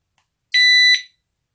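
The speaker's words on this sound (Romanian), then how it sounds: "Senzorul de ușă, dacă îl mișc, sună alarma în continuu." A Smanos X300 smart home alarm siren gives one short, loud, shrill electronic beep lasting about half a second, close by and alone.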